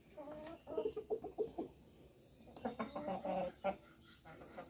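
Egg-laying hens on a small farm cluck in quick, close bursts, two clusters of short throaty notes separated by a brief pause, with soft background rustle and no talking.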